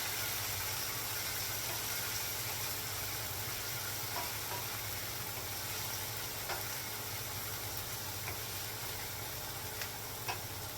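Goulash ingredients cook in a pot on the stove, a steady close sizzle and bubbling hiss with occasional faint clicks, continuous and without talk.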